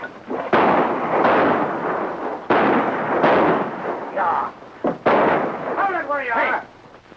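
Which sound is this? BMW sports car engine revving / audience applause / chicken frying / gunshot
gunshot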